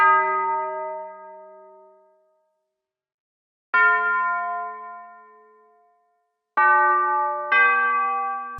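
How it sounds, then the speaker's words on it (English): A tubular bell melody built in FL Studio, four clean struck bell notes with long ringing decays, the first two spaced apart and the last two in quicker succession. "For the drop of the song, I'm also going to add this tubular bell melody."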